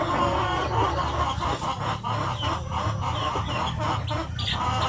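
Native Sampi chickens cluck and cackle steadily in a flock, close and fairly loud, with a continuous busy layer of farmyard calls and no talk.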